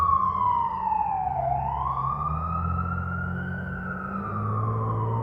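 An emergency vehicle siren wails steadily and fairly loud, its pitch sweeping down then rising again over a constant low traffic rumble, with no voices.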